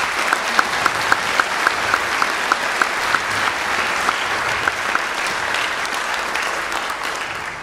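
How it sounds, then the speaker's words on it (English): Concert audience applauds band students at a spring school concert, steady, full clapping throughout with one sharp, regular clapper standing out near the front. "so let's give them a round of applause"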